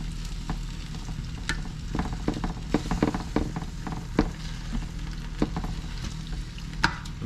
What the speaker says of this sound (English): the pan is starting to heat up and sizzle because I set it right down on a hot burner